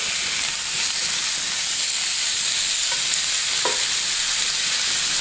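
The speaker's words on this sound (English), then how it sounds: "get it into the pan, and you want to sear it" Fillet steak searing in a smoking-hot pan, a loud, continuous close-up sizzle and hiss with a couple of faint clinks, no voices.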